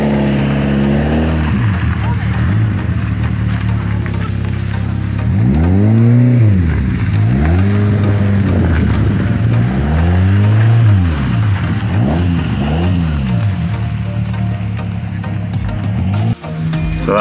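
At rally scrutineering noise tests, a rally car engine idles and then revs hard several times in rising and falling surges, loud and close, before settling back to idle.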